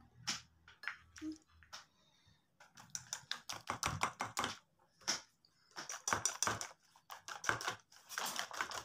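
An egg is whisked into martabak manis batter for a pan-cooked peanut chocolate martabak, the whisk ticking against the bowl in quick, steady clusters of close clicks.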